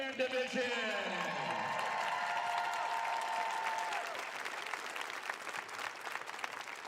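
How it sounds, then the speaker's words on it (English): At an outdoor band summer camp, an announcer's amplified voice fades out as crowd applause for the marching band division rises, a broad steady clatter of many hands clapping at a distance. "huge round of applause for our marching band division."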